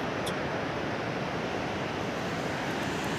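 Water rushes steadily down a mountain stream in a Himalayan valley on the route to Niti Valley near Joshimath, Uttarakhand, a continuous dense roar close by with no pauses.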